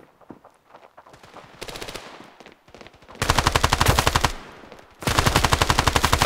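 Rifle gunfire in a shooter video game: quieter single shots and short bursts at first, then two loud, rapid sustained automatic volleys with a brief pause between them, close and dominant.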